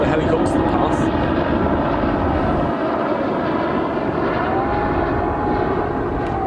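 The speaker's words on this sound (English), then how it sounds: "I'm just going to wait for the helicopter to pass." Helicopter passing overhead, a loud continuous rotor and engine drone that covers the whole stretch, with a person talking underneath it.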